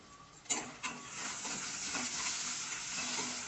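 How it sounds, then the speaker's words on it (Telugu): Onion pieces with turmeric and salt fry in a pan, giving a soft, steady sizzling hiss with a couple of sharp clinks of stirring near the start, quiet and without talk. "ఇప్పుడు వీటిని బాగా ఫ్రై చేసుకోవాలండి మూత పెట్టుకొని ఫ్రై అవనీయండి"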